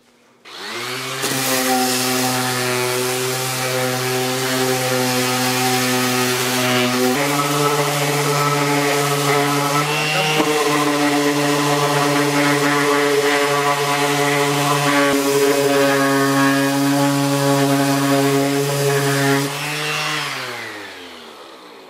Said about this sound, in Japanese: 一応サンダーがけ終わり